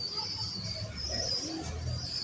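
Breeder pigeons coo softly in a loft, low murmuring calls repeating steadily beneath a constant hiss of background noise, with no talk over them.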